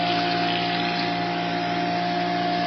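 A pressure washer sprays water onto a surface to clean it, giving a steady, loud hissing rush with a constant underlying machine hum and no breaks or voices.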